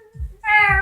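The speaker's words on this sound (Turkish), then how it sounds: "bu kedi nereden çıktı ya?" A cat meows once, a short, clear, close call following a couple of soft low thumps.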